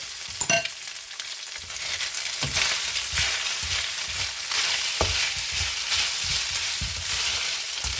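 Rice frying in a pan over medium-low heat, a continuous close sizzle broken by a few sharp scrapes and clinks of a utensil against the pan, with no talking.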